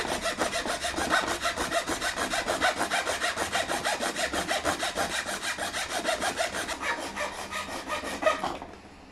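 A thin, non-solid wooden box is sawn through its middle into two pieces by hand, with steady back-and-forth rasping strokes that run continuously and close up before stopping near the end.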